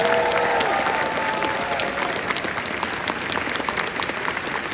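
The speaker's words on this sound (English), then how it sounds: "if I could just get the biggest round of applause for them" An audience at an Undertale/Deltarune convention closing ceremony applauds the volunteers with a dense, sustained round of clapping that stays loud and even throughout, with a little cheering and faint voices mixed in.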